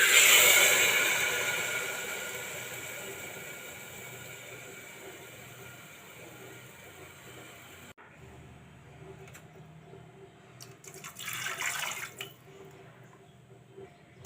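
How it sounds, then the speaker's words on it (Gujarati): Water poured into seasoned rice in a pressure cooker, a steady splashing pour that fades over several seconds, followed by a louder burst of running water further on, with no talking. "તો પાણી પણ આપણે નાખી દઈશું."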